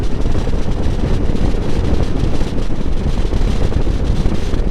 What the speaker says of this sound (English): all you hear is the wind